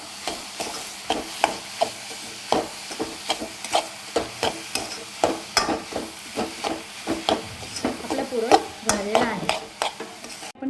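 Coconut shingolya dough is worked by hand in a bowl, giving a steady run of soft, rhythmic slapping and squelching strokes, close and fairly even, with no talking.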